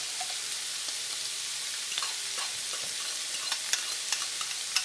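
A spoon stirs thick homemade sauce into cooked ground beef in a pan, making soft wet scraping and sizzling with a few sharper clicks, fairly quiet and close, with no talking.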